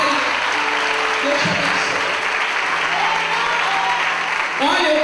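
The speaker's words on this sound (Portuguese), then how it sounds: "Vamos aplaudir o Senhor por essa vitória." Congregation clapping at a church testimony service in Brazil, a full, sustained burst of applause heard up close with a voice and some musical tones underneath, briefly dipping near the end before swelling again.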